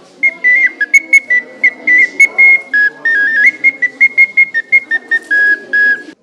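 A shrill toy whistle toots in quick, repeated bursts, close and loud, wavering slightly in pitch as it plays a jaunty little tune.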